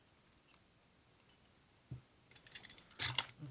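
A rotary cutter works at plastic packaging, heard as faint scrapes followed by sharper crinkling and clicking bursts near the end, close and with no talk.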